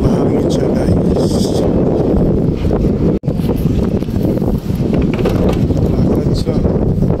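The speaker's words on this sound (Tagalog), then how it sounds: "medyo mahangin siya" Strong wind roars and buffets a microphone high up on the Ain Dubai observation wheel, a loud, steady rush filling the whole stretch with no talk.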